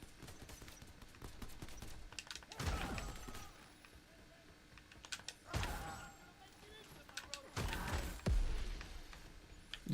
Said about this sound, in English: You throwing grenades, dude?